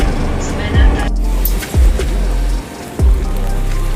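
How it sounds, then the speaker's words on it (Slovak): Heavy rain pours steadily outdoors on a wet day while mushroom hunting in the woods, a constant dense hiss throughout with a few short low thumps or gusts standing out; no clear talk over it. "Prší, len sa leje. Dobre sa rozpadalo."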